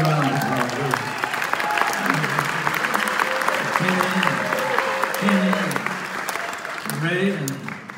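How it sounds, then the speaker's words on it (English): Concert audience at a performing arts center applauding a rock and roll band, a steady wash of clapping and crowd noise lasting several seconds, with a voice speaking over it at intervals. "They deserve a round of applause."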